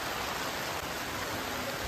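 Rain falling in a jungle, a dense, even wash of hiss from many drops on foliage that holds steady without pause.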